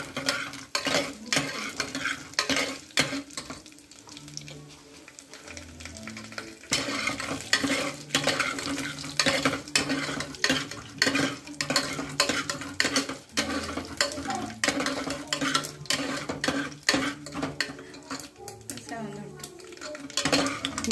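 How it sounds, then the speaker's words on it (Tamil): Chana dal and urad dal being roasted in a pan for aloo masala, with a steady sizzle, repeated stirring scrapes and clinks of a spoon against metal, close by and continuous. "நெக்ஸ்ட் உளுத்தப்பருப்பு ஒரு ஸ்பூனு போட்டு கொஞ்சம் ரோஸ்ட் பண்ணிக்கோங்க"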